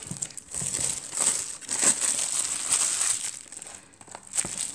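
Plastic wrapping being torn off a Japanese Matchless Fighters card box, close and fairly quiet, with steady crinkling and crackling that rises and falls in short bursts over a few seconds, no voices.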